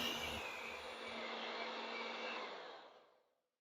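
Electric mixer beating cheesecake batter at low speed, a steady close whirring drone that holds then winds down and stops.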